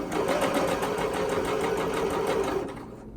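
Sewing machine stitching a knit neck binding, a loud, steady rapid mechanical whirring and clatter close up that runs evenly before slowing and stopping near the end.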